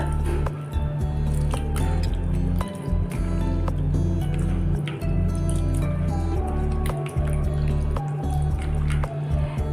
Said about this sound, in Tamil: நல்லா பழுத்த தக்காளியை பார்த்து நல்லா பிசைஞ்சுக்கோங்க